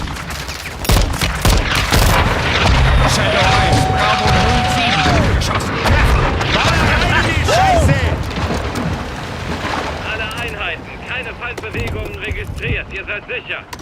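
Heavy artillery fire and explosions in Call of Duty MWII, with dense crashing blasts and debris rumbling nearby while soldiers shout radio calls over the din, then the barrage thins out.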